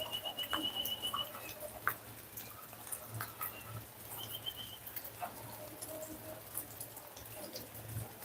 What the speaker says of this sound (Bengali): সকাল থেকেই হালকা হালকা বৃষ্টি